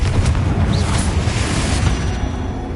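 A Confringo spell explodes in the Hogwarts Legacy video game as a heavy, rumbling boom with a burst of crackling debris, loud and close, and the rumble trails off over a couple of seconds.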